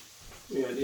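Onions sizzling as they hit a hot pan for a bacon breakfast, starting faint and then swelling into a steady, close crackling hiss after about half a second.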